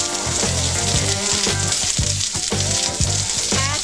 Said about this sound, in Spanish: El aceite ya está caliente y vamos a echar nuestra cebolla entonces pluma para que se caramelice.